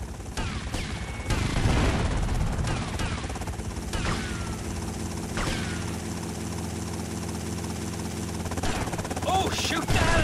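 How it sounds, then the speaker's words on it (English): Helicopter rotor chop in a chaotic GTA Vice City gang shootout, with bursts of gunfire and explosions layered over a steady mechanical drone throughout. "Oh my god, they've got a helicopter!"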